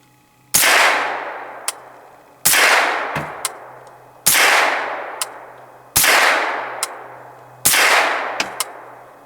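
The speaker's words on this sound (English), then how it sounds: "That supersonic crack is very, very apparent." Five suppressed gunshots with standard 115 grain supersonic ammunition ring out at about two-second intervals, each a loud sharp crack with a decaying tail, followed by a small metallic clink.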